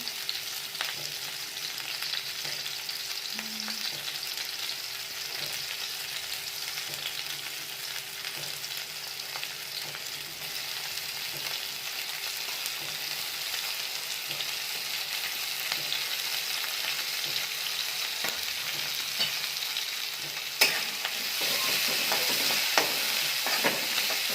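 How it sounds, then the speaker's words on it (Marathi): Chopped onion and green chilli fry in oil in a pan, a steady close hiss of sizzling with faint stirring scrapes running throughout. "सुरुवातीला आपण त्यात कांदा हिरवी मिरची टाकून व्यवस्थित लाल करून घ्यायची"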